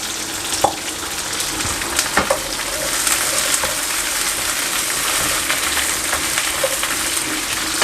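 Fried chicken and vegetables sizzle steadily in a hot pan for a Thai-style cashew chicken, a continuous close hiss with a few small pops and stirring clinks, no talking.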